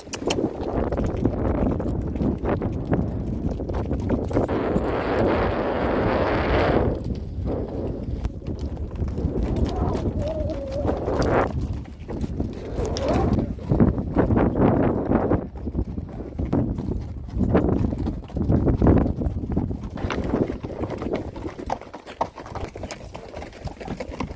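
Horse hooves clip-clop steadily during a trail ride at Golden Bay, Malta, a continuous rhythmic plodding close by, mixed with wind and outdoor rustle.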